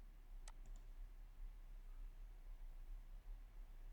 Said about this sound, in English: and then I click next.